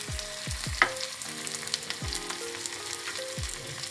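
Green peas fry in a pan for oats upma, a steady sizzle with scattered pops and occasional stirring clinks close up.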